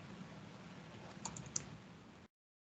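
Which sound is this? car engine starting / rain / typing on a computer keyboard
typing on a computer keyboard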